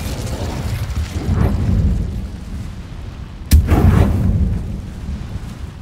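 Incendio fire spell in Hogwarts Legacy, two whooshing fiery bursts, the second opening with a sharp crack, each rumbling and fading over about a second, loud and close with no talk.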